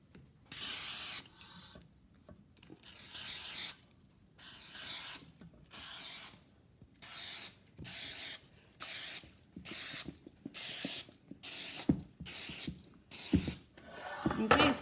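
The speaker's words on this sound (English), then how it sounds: "I'm going to take my cooking spray and I'm going to spray every well generously because I don't want my muffins to stick." Cooking spray hissing into the wells of a muffin tin in about eleven short, evenly spaced bursts, close and fairly loud, with light clinks of the can and pan between them.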